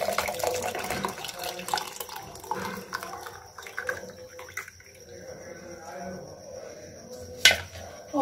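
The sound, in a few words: straining hot ginger water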